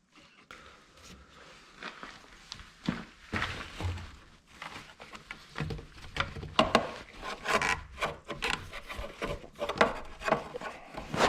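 Metal spike prying and scraping at parts on a wrecked Jaguar S-Type R, giving irregular close scraping, rubbing and creaking with sharp clicks and knocks that grow busier toward the end, no voices.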